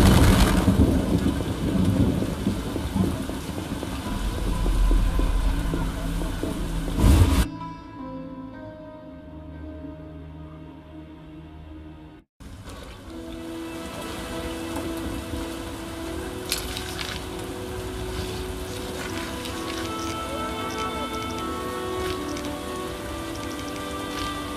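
Rain pours steadily in The Witcher video game, with dense hiss and low rumbles of thunder, briefly dropping out around the middle before the downpour resumes continuously and loud.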